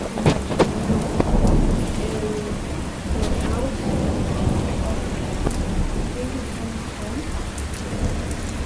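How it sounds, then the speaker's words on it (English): Steady rain falls outside a window during a windy thunderstorm, with a constant hiss of drops on surfaces, occasional sharp taps and a low rumbling of thunder early on, close and fairly loud throughout. "It's raining today"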